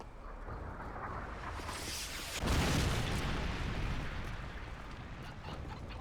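A Predator missile strike in a video game lands as a deep rumbling explosion that hits about midway through and rolls on as a broad roar over steady battlefield noise.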